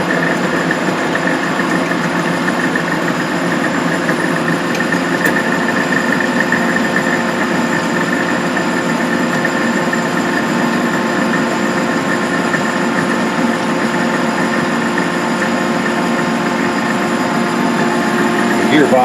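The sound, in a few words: Gentleman Janitor boiler with Van Wert stoker running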